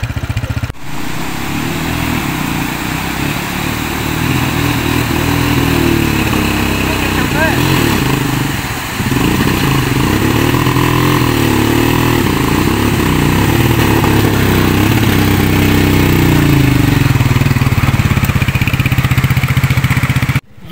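A motorbike engine runs steadily throughout a ride to a lake in the Nalter Valley at sunset, a constant mid-pitched drone with swelling revs and loud wind noise, while talk carries on over it.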